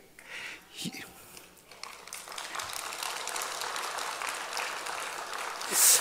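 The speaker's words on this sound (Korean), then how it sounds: "박수도 다른 경우는 이 이야기에 박수 안 쳐주던데" Audience applause at a church evangelism healing seminar, a steady broad patter of many hands clapping that builds within the first seconds and holds through most of the clip, with faint murmuring beneath.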